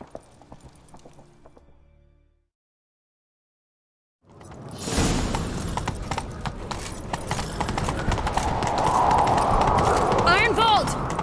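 Hooves clip-clop at a steady gallop from a horse in The Witcher 3, rising in loudness after a brief silence, with swishing movement and voices talking over the ride.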